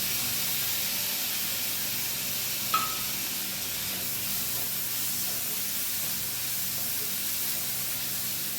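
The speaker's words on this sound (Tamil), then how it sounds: "தக்காளி கொஞ்சம் நல்லா வதங்கி வரட்டும்" Onion and tomato sauté in a pan for chapati egg kothu, giving a steady, even hiss and soft sizzle throughout, with a faint clink partway through and no voices.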